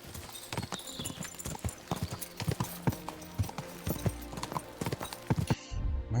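Rhythmic clip-clop of horse hooves in the video game Kingdom Come: Deliverance II, steady and close, with an occasional snort over a busy background.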